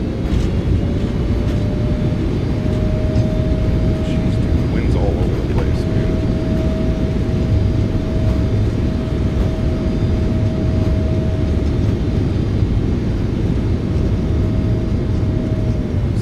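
In a flight simulator, a PMDG 777F freighter's thrust reversers roar in a loud, steady rumble during the landing rollout, with a sustained whine throughout.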